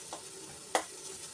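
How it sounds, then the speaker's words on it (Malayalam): Ginger and garlic sauté in a pan for a Kerala fish curry, a faint steady sizzle broken by a brief scrape or clatter of a spoon midway, with no one speaking. "നമ്മുടെ ഇഞ്ചിയും വെളുത്തുള്ളിയൊക്കെ ഏകദേശം വഴന്ന് വന്നിട്ടുണ്ട്"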